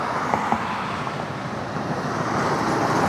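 Cars streaming along a busy road next to a bike path in early-morning commuter traffic, a steady rushing wash of tyres and engines that swells slightly toward the end, without any voices.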